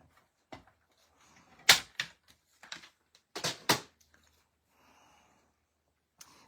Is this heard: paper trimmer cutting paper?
yes